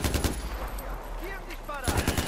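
Gunfire in Far Cry 4 comes as rapid automatic bursts at the start and again at the end, with a quieter stretch of game ambience between them.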